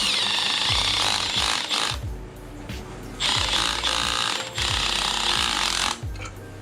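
A ratchet tightens a nut while a trunnion kit and dual springs are installed. It gives close, rhythmic clicking strokes in repeated bursts with short pauses between them.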